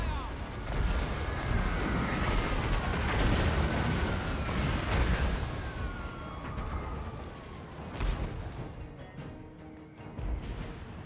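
Heavy booming blasts of cannon fire in Total War: Warhammer 2 crash one after another in a chaotic battle soundscape, with low rumbles and crackling debris throughout.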